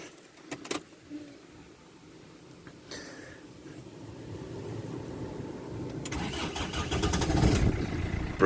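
A partly dismantled Rover 75 car engine starting up: a few clicks and a brief key or starter noise, then the engine turns and catches, building into a rising, steady mid-pitched running rumble close by.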